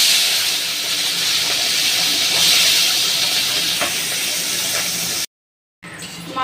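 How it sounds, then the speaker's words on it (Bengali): Small fresh river fish from the Ganges fry in hot oil, giving a loud, steady hiss and sizzle. The sizzle drops out briefly near the end, then returns. "এবার মাছগুলো আমি ভেজে নেব।"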